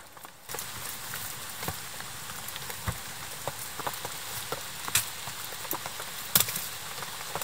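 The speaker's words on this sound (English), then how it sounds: "raining and raining pretty hard." Heavy rain falling on a campsite, a steady hiss of drops with scattered louder taps and splats on nearby surfaces, fairly quiet and without talk.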